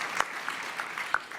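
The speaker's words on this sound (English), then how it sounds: "You can applaud for that." Audience applause at a business and society summit session, a soft steady patter of clapping with a few sharper claps standing out, heard at moderate distance and without talk.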